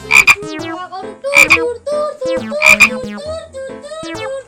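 Frog croaking in loud, close, harmonic bursts, about four rapid rattling croaks repeating in an irregular rhythm with no talk over them.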